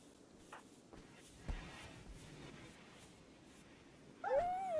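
A dog in the video game Rimworld lets out a loud, rising whine or yelp near the end, after a quiet stretch of low game ambience with a few soft clicks.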